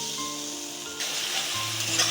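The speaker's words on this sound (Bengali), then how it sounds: "এখন দিয়ে দেব সরষে বাটা, হালকা সরষে বাটা দিয়ে দিলাম। দিয়ে এখন মশলাটা ভালো করে কষিয়ে নেব।" Mustard paste masala frying in a hot pan, a continuous bright sizzle with faint stirring, steady and close throughout, with soft tones underneath.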